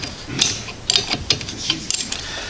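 A 17 millimeter wrench loosening the wiper arm nuts on an Alfa Romeo Stelvio 2.0, with quick metallic ticks and clicks in short irregular bursts, close and moderately loud with no talking.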